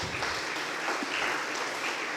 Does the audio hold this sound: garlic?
no